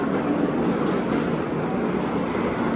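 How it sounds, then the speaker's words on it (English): Steady, loud wash of background noise fills the concourse of Washington Union Station, a busy train station, with a continuous rumble and no pauses or distinct events across the short stretch. "Sorry for all the background noise here."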